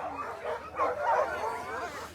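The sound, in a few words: sled dogs barking at race start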